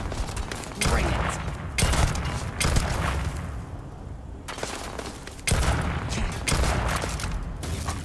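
Bursts of gunfire in the Starfield video game, several loud volleys of rapid shots with booming impacts separated by brief quieter gaps.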